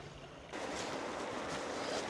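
The River Waring runs on the edge of Horncastle behind houses, its flowing water a steady broadband rush that swells in suddenly after a quiet half second and then holds at a constant level, with no talk over it.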